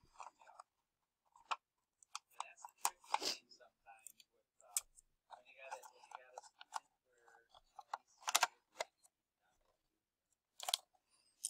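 A rolled paper cylinder gets taped shut, giving crisp, scattered clicks, crinkles and short tape-pulling rasps at close range, with faint talk in between.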